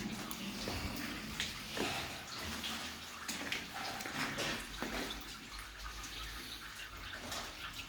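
Water drains through apartment pipes in the basement of a block of flats, a continuous rushing, splashing flow with irregular drips and gurgles, fairly close and steady throughout.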